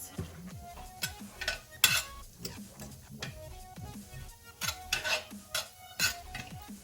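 A utensil stirs chicken with chili powder in a skillet, scraping and clinking against the pan in an irregular rhythm with a few sharper knocks, close and moderately loud, with no talking.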